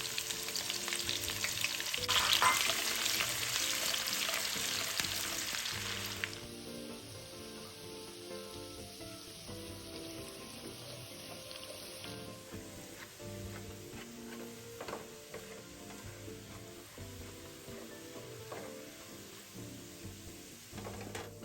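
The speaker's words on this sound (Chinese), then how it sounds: "再将红葱片倒入爆香。" Sliced shallots fry in oil over low heat in a wok already used for frying tofu, giving a continuous soft sizzle. It is loudest early, then settles to a quieter crackle, with occasional stirring clinks and no talk.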